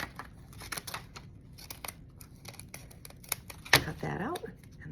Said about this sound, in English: fancy scissors that cut different patterns, and I cruised around just on the outside edge